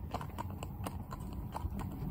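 A cob horse's hooves clip-clop on a hard road in a quick, even rhythm, close and clear over low background rumble.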